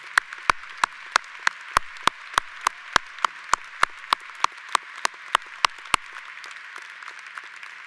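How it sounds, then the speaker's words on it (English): Outdoors at a college commencement, applause for faculty sounds thin and distant, with one nearby person clapping in a steady, loud, evenly spaced rhythm over a faint crowd wash before stopping. "So if they'd please rise and let's give them a round of applause."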